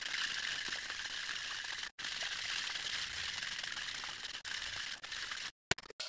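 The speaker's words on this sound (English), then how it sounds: "we're gonna dry shake it for about a minute." Dry shaking of a bourbon eggnog cocktail with egg and cream in a shaker, a fast continuous rattling shake, fairly quiet, with brief pauses and a few sharp knocks near the end.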